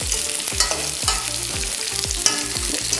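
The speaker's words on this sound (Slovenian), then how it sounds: "malo ga premešaj še z vilico" Couscous stirred with a fork in a home kitchen, a soft scraping that blends into a steady loud sizzle of frying, with rhythmic thumps and music-like tones running underneath.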